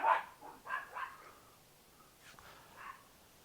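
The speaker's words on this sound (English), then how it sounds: "The dogs have just decided to chase a bird." Small dogs barking while chasing a bird outdoors, several quick yappy barks near the start, then a couple of fainter barks and yips after a pause.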